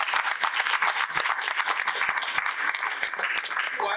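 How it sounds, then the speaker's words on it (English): A crowd applauds steadily, dense clapping filling the room at an even, sustained level. "Let's give him a round of applause."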